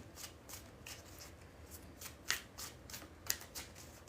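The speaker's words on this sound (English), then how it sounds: "I'm going to do 3 more shuffles." Tarot cards are shuffled by hand in a quiet room, a run of soft riffling bursts at a steady pace with a couple of sharper snaps, close and faint, with no talk.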